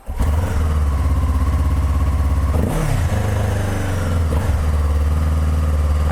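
Cheap gas/electric hybrid motorcycle attempting a burnout, its engine droning loudly and steadily at close range with a brief rev change partway through.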